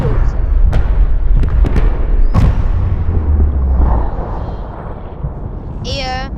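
A Subnautica submarine explodes in the video game, with a loud sustained rumbling boom and several sharp bursts, then the noise fades and a short electronic sweep follows.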